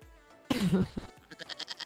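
A goat bleat sound effect rings out abruptly, loud and close, wavering for about half a second and followed by a quieter pulsing tail.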